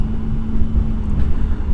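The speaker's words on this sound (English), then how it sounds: "That engine's got a lovely growl to it." Triumph Sprint ST1050 sport-touring motorcycle engine giving a steady low growl with wind rush, recorded close and loud from the rider's position at low road speed.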